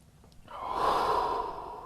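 A single deep, airy breath taken while holding a yoga pose, rising after a brief pause and sustained as a steady close whoosh before easing slightly, with no voices.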